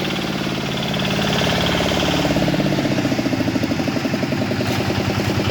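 A small walk-behind motor tractor with a floating gearbox runs steadily nearby during break-in, its rhythmic chugging thump becoming more pronounced and knocking partway through, loud and continuous.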